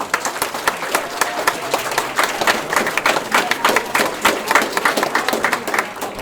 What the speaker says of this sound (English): So quick round of applause for our SPL